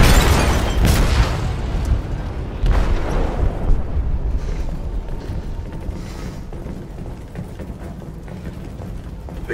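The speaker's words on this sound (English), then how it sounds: "They detonated an explosive in the hold." An explosive detonates in a ship's hold in Detroit: Become Human, a loud low boom followed by a second heavy blast, then sustained rumbling and creaking metal as the vessel begins to sink.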